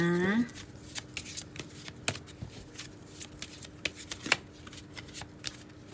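Tarot cards being shuffled by hand in a steady flurry of crisp riffles and soft slaps, close and clear, with a brief faint tone at the start and no talking.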